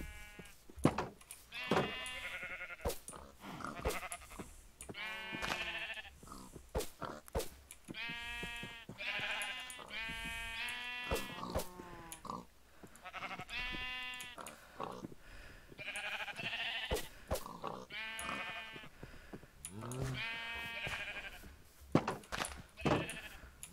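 Minecraft sheep bleat repeatedly in short wavering calls, several animals overlapping at close range against a quiet game backdrop, with brief clicks and rustles of play between the bleats.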